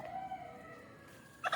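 Country chickens clucking close by, a drawn-out tonal call followed by a short sharper cluck at the end, fairly quiet with no talking.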